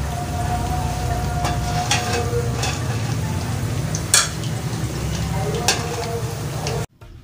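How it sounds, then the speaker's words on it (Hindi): Pakoras frying crisp in hot oil give a steady, close sizzle, broken by a few sharp clinks and taps of a utensil stirring them, then cut off abruptly near the end. "मैं आपको इन पकोड़ों की साउंड सुना देती हूँ कि ये कितने ज़्यादा क्रिस्पी बने हैं"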